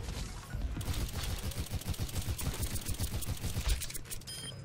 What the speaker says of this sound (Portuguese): Tomou tiro, hein, Hanzo?